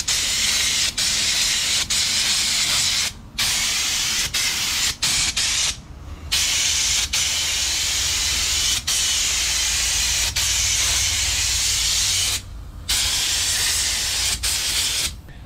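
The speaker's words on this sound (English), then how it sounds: "All right, here's the new gun. It sprays nice" A paint spray gun hisses steadily while spraying Seahawk paint onto a jon boat, long loud bursts broken by several brief trigger releases and short silent gaps.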